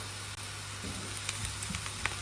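Chopped onion sizzles in hot oil in a frying pan, a steady close crackle with a few small pops and no voices.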